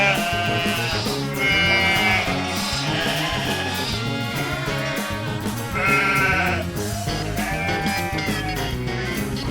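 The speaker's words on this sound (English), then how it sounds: "Where's the lamb? There's the lamb." Sheep and lambs bleat repeatedly in a barnyard, several wavering calls overlapping close and loud with no talking.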